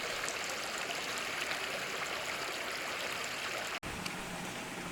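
A creek runs over a limestone or sandstone bottom below a cabin, producing a steady, even rush and trickle of flowing water throughout, close and moderately soft, with a brief dropout near the end.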